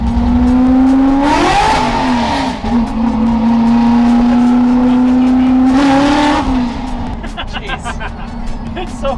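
A 500-horsepower Ford F100 accelerating on the road, loud and close, with its engine note climbing through two strong revving pulls between shifts, and a voice talking over it.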